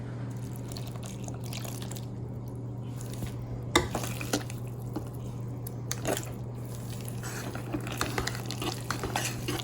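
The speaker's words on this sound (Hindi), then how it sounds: "और मिक्स वेल कर लें।" A spoon stirs milk and chives into a mashed chicken and potato casserole mixture, giving soft, wet scraping and occasional clinks against the bowl over a steady background hum, fairly quiet and close.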